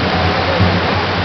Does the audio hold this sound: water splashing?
yes